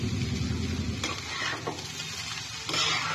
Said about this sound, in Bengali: চাউমিনটা ভালোভাবে মিশিয়ে নিয়ে তার মধ্যে ভাজা মশলাটা দিয়ে দেবো